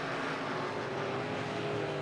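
IMCA Modified race cars roar around the track at RPM Speedway, a dense continuous engine drone from several cars at once, held at a steady loud level.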